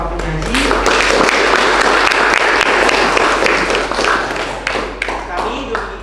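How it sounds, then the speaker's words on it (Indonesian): Audience applause for presenters at the close of a school student presentation session, a dense, loud clapping that fills the whole stretch without letup. "Marilah kita berikan tepuk tangan yang meriah kepada para penyaji."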